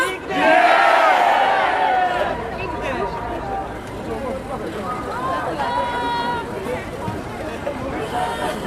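A huge crowd at a protest march in Warsaw makes a broad, constant murmur and chatter with a loud shout rising near the start, while someone speaks over it close by.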